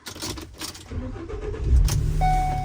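A Ford Transit van with a check engine light and fault code P1450 starts up: a brief rattle of keys and handling, then the engine cranks and catches partway through and settles into a steady, close idle.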